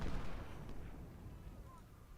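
Artillery fires in the Ultimate General: Civil War video game as a faint, distant boom that fades out over a couple of seconds.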